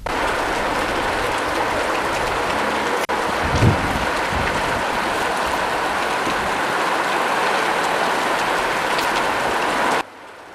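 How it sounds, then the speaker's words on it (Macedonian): Heavy rain pouring down in Bitola in the afternoon, a loud, dense, continuous hiss with a brief bump partway through, ending abruptly. "Денес после 13 часот силен дожд ја зафати Битола."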